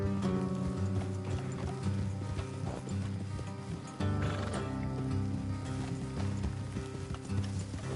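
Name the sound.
horses galloping in Red Dead Redemption 2 video game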